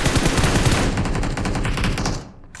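Rapid automatic gunfire in PUBG Mobile, a dense close burst of shots firing continuously for about two seconds before cutting off abruptly.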